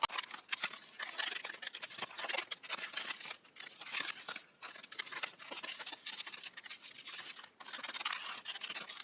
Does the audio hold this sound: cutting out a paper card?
yes